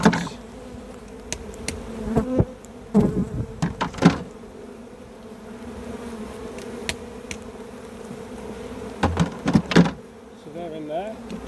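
Loose honey bees buzz around hive frames while a swarm is moved into a box, a continuous close drone broken by several sharp knocks and clatters of wooden frames.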